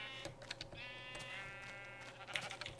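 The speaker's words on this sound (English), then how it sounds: "I'm thinking this sheep here was in my way." Minecraft sheep bleats in a wavering, drawn-out game sound effect, two or three calls in a row, moderately close and quiet, with light keyboard clicks underneath.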